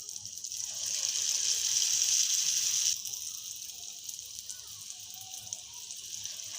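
Gulgula batter balls drop into hot oil in a small kadai and set off a bright, steady sizzle that swells and then eases to a quieter bubbling fry, close by.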